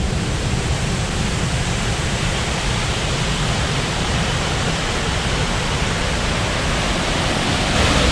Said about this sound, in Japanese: すぐ下に滝があります。